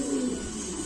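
Running pigeons at a pigeon market give a single short, low coo, soft and close against a faint background hum.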